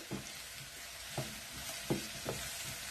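Minced meat and button mushrooms frying in a pan with a steady soft sizzle, broken by a few louder scrapes and clatters of stirring spread through the clip.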